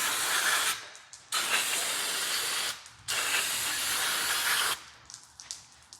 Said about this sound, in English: I'm going to grab a can of brake clean